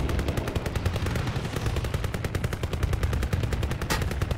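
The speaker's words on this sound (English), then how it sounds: "someone's shooting me" Rapid, loud machine-gun fire rattles without a break in Call of Duty WWII on the Operation Husky war map, with dense bursts overlapping throughout.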